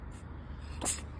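A cat's single short, sharp sneeze bursts out near the end, faint against a quiet indoor background.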